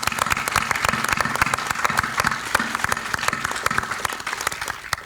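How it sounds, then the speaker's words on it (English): Audience applause for the speakers at a Scala World 2016 closing panel, a dense, steady patter of many hands clapping with a low hum underneath, sustained throughout and fading slightly at the end. "Can we have a round of applause for them, please?"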